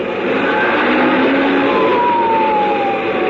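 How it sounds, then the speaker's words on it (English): Loud emergency sirens wail continuously on the Cajon Pass descent, their pitch sliding slowly over a dense roar of traffic and engine noise. "Sirens screaming, red lights flashing"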